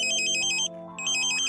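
A satellite modem gives off its ambulance tone during dish pointing: a loud warbling electronic tone that alternates quickly, breaks off briefly and then starts again, heard alone.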